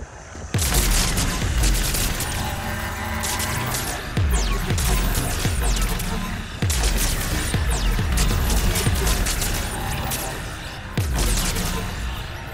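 Repeated heavy weapon shots from the Spitfire-style gun in Mass Effect 3, each blast followed by a booming low tail, fired in spaced bursts over continuous loud game noise.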